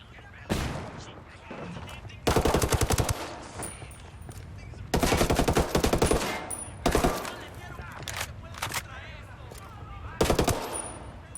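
Rifles such as the Mk16, Mk18, FAL and UMP45 fire in a shooter video game, with several loud, sharp bursts of rapid automatic gunfire separated by short quieter gaps.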